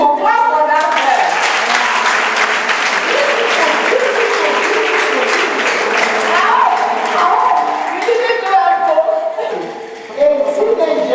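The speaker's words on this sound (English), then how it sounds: "Clap for that hair." An audience at a youth workshop claps in a sustained, dense round of applause that fills most of the clip and tapers near the end, with voices and a little laughter mixed underneath.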